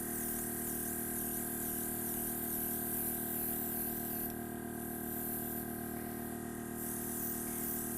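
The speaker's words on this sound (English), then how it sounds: "Now I'm going to spray quite heavily on the top." Paint sprays heavily from a spray gun in a continuous close hiss over a steady hum, with no break across the whole stretch.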